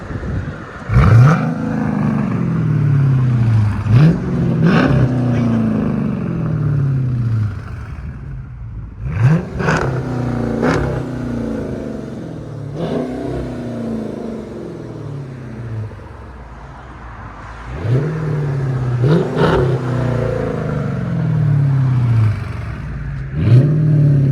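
A 2012 Dodge Challenger R/T with a 5.7L HEMI V8 and Flowmaster Outlaw exhaust revving repeatedly, each loud, close throttle blip rising sharply and then falling back to a rumbling idle, about eight revs in all with no talking.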